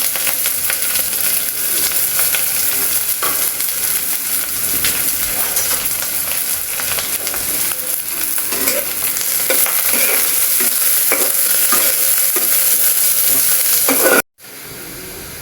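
Oil sizzles loudly in a pan as cooking begins for a home-style curry, a dense, continuous close frying hiss with stirring scrapes that cuts out abruptly near the end.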